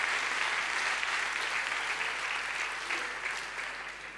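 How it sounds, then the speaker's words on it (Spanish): Audience applause at a live monologue show, a dense steady wash of clapping from a crowd that holds for several seconds and slowly tapers toward the end, with no voices over it. "También pido un aplauso para ellos por todo lo que hacen."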